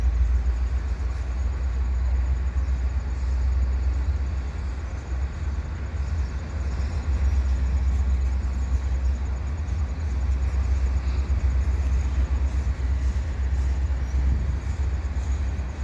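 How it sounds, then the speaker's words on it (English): A CN freight train made up of tank cars rolls past at Dorval, a steady, continuous low rumble and rail noise holding at even loudness throughout with no breaks. "This one looks like it might be an all-tanker train."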